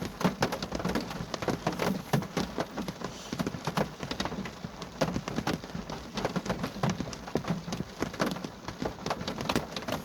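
Steady rain pattering at night in Bethesda graveyard, a dense continuous hiss of drops with frequent sharper taps on nearby surfaces, close and fairly loud throughout.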